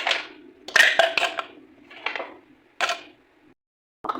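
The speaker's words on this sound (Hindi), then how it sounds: "अब हम इसमें डालेंगे आइस क्यूब।" Ice cubes dropped into a glass of homemade chocolate milk, giving a few sharp clinks and rattles in separate bursts, close and fairly loud, with brief quiet gaps between drops.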